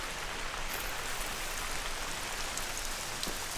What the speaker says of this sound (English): it rains like a rainforest here. It's just always downpouring.